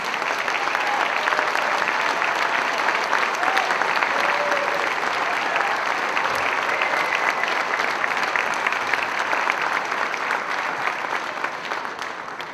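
An audience at a school arts showcase gives the standing principals hearty applause, a dense, steady wash of clapping that holds for about twelve seconds and thins slightly at the very end.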